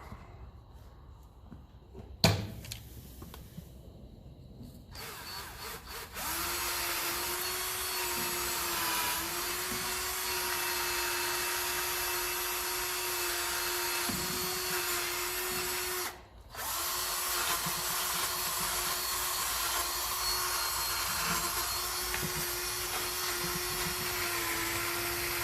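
A wire brush spun by a power drill scours rust off a 1954 Ferguson TEF 20 diesel tractor part. After a brief start and a sharp knock, a loud, steady whining grind runs for about twenty seconds, with one short pause partway through.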